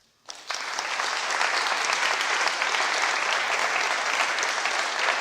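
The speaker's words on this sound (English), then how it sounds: "Are they clapping because they're obligated to, or do they actually agree with this shit?" A large audience breaks into applause at a talk, starting abruptly and then holding as a steady, dense wash of many hands clapping with no voices.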